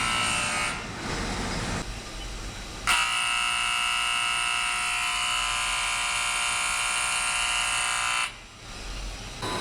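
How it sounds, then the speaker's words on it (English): A low-water-level alarm on a coal-fired steam plant boiler sounds during a blowdown: a loud, steady electronic buzzing tone that cuts in and holds for several seconds, then drops off, with plant machinery humming underneath. "During a blowdown, the drop in level will activate the alarm as expected."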